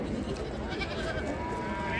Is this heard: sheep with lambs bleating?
yes